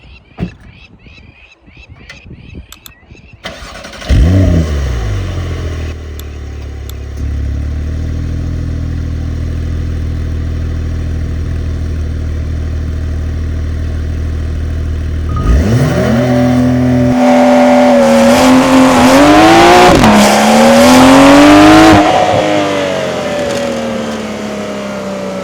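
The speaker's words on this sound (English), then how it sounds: "you're now also going to be getting launch control, and you can send this car to 100 k's an hour in" A Porsche 911 Carrera of the 992.2 generation launches hard with launch control, its engine building from a held idle into a loud, rising rev through several gear changes, close and without talk.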